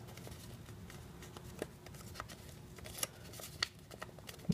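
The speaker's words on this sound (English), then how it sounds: "I'm going to cut along the dotted line here," Scissors snipping along a dotted line in a paper airplane sheet, a string of faint, irregular close cuts and crisp ticks over quiet room noise.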